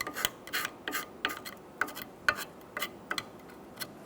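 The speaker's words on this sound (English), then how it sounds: "I'm going to clean all of these corrosion pieces" Scraping and rasping inside a GMC K1500 5.7L V8 distributor dish as corrosion is scrubbed out, quick repeated close strokes with small ticks, no voices.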